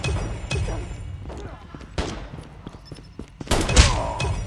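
Revolver shots in Call of Duty Mobile, a few heavy game-gun blasts spaced through a busy in-game soundscape, the loudest one near the end, with a voice talking over parts of it.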